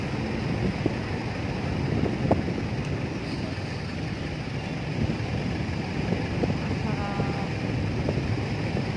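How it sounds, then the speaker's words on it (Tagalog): Strong wind blows outdoors at Manila Bay, a constant buffeting roar of wind noise across the microphone, steady throughout with occasional gusts. "Malakas ang hangin dito ngayon."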